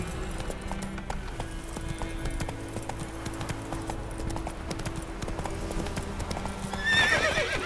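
Horse from The Witcher 3 galloping with a rapid, steady clip-clop of hooves, ending in a loud, close neigh.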